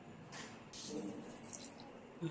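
Water poured from a vessel onto sugar in a cooking pot for the syrup of Kutchi-style besan ladoo, a close splashing pour lasting a couple of seconds, fairly quiet.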